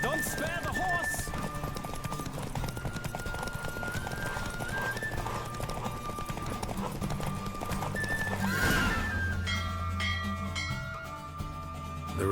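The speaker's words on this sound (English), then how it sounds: "Don't spare the horse!" Hooves clip-clop steadily through a horse race in The Witcher 3, with a horse neighing and voices calling out over the busy, continuous game soundscape.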